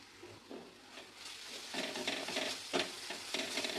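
Chole masala is sautéed and stirred in hot oil in a pan, giving a soft continuous sizzle broken by scraping stir strokes that swell in short bursts, close and without speech.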